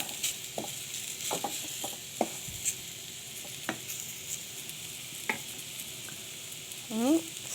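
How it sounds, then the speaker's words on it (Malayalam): Dried mango pickle sizzles in a pan while a spoon stirs it with scattered scraping taps. A brief squeak of metal on metal comes near the end. The sound is close and moderately loud, with no talking. "ഉപ്പിട്ട ശേഷം നല്ലപോലെ മിക്സ് ചെയ്യണം കേട്ടോ."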